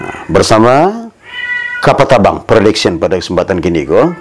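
A man imitates a cat with his voice, making drawn-out, rising and falling meows that blend into lively spoken commentary, close and loud throughout.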